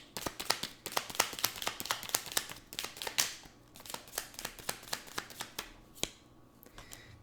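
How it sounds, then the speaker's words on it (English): Tarot cards shuffled by hand in a steady run of crisp, rapid riffling flicks, close and fairly quiet, with no talking. "I'm going to keep shuffling"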